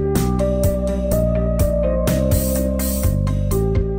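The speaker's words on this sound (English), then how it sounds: "He spray paints the exposed sections." Repeated short hissing bursts of spray paint onto an aircraft's exposed sections over a constant mechanical hum, each burst sharp and close, several in quick succession.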